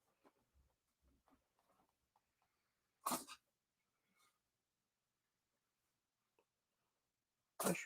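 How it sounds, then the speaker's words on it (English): A cat sneezes twice, two sharp, close bursts several seconds apart in an otherwise quiet room with a few soft rustles. "Cat's sneezing."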